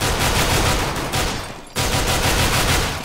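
Dense, continuous gunfire from a Counter-Strike: GO zombies match rattles loudly throughout, broken by one brief gap before resuming.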